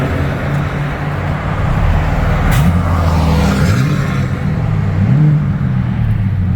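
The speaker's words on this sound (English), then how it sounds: "Give it a little rev." A BMW G80 M3 idles in traffic with steady low engine rumble, swelling in a couple of brief revs around the middle and again near the end, heard from inside the car over constant road noise.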